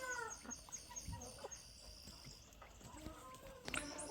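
Chickens clucking in a backyard coop, including a large naked-neck bird around three months old, with scattered clucks and short calls near and far over faint background noise.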